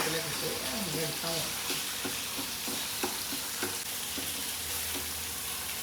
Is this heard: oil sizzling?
yes